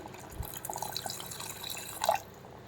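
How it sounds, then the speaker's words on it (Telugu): Water trickles and splashes into a pot of mutton with tender tamarind leaves in a short, quiet pour, with a brief louder gush near the end before it stops. "ఇప్పుడు కొంచెం వాటర్ వేసుకుని"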